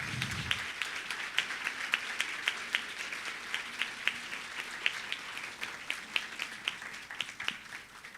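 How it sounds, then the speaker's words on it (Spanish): An audience at an academic panel applauds a speaker, steady fairly distant clapping from a modest crowd with a few distinct nearer claps, fairly quiet overall. "Un aplauso para nuestra amiga Rita"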